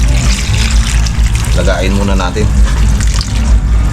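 Water gushing steadily into a cooking pot for boiling mud crabs, a loud continuous rush heard while someone speaks over it.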